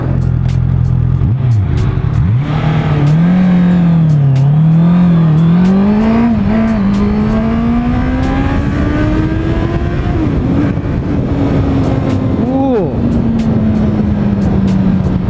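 A 2018 Honda CBR650F motorcycle engine rumbles loudly at a stoplight, then accelerates, its pitch climbing steadily through the gears with a throaty, rasping roar close by.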